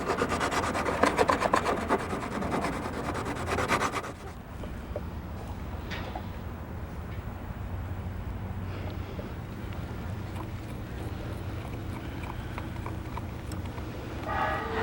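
Sanding along the edge of a boat transom with a balsa core, a harsh rasping rub for about four seconds, then a much quieter stretch of faint rustling and low background rumble.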